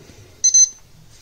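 A HANMATEK HM310T 30V 10A programmable DC bench power supply gives a single short, clear electronic beep as its output is switched on, with only faint background noise around it.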